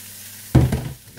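Bacon is being browned in a frying pan for a quiche, heard as a sudden close burst of sizzling that swells for a moment and then settles into quieter frying.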